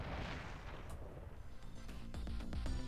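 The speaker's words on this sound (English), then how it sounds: "I think I heard an explosion somewhere." Distant explosion rumble in the game Ghost Trick, with low booming thuds and crackling bursts that build toward the end over a steady noisy background, with no speech.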